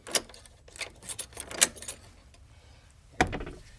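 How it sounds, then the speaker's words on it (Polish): A cellar door with a sticking lock gives a few sharp metallic clicks and rattles of the key turning and the door moving, close and separated by short quiet gaps. "Otwieramy sobie o, drzwi i zamykamy klucz."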